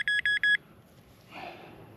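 A Nokta Legend metal detector, reported to be malfunctioning, gives three quick, sharp electronic beeps close by, followed by quiet and a faint rustle.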